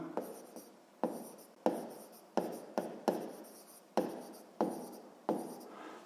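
A pencil scratches on paper in short, quiet strokes, roughly nine of them with brief pauses between. The writing is close and heard alone, while a Grade 6 maths exercise is written out.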